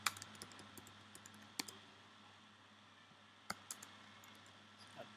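Quiet computer keyboard typing while writing Ruby on Rails code for a PostgreSQL materialized view: scattered single clicks and a few small bursts separated by long gaps, close but soft against a faint room hum.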